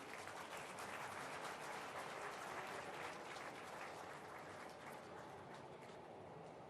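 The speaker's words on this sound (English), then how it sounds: "He deserves a big clap on this." An audience at the Vibrant Gujarat 2011 event claps for a chief minister, a continuous wash of applause heard from a distance and fairly faint throughout.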